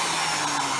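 A vacuum-and-heat tool in a puppet-making shop runs its heat function, blowing hot air with a steady, loud, unbroken whoosh throughout, no voices over it.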